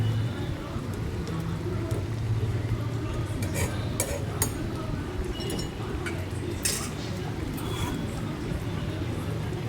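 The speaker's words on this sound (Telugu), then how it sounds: "మళ్ళీ ఎగ్గును కదిలిద్దామండి." A spoon scrapes and clinks against a pan as boiled eggs are stirred through curry, soft repeated metallic taps over a low simmering background while someone talks throughout.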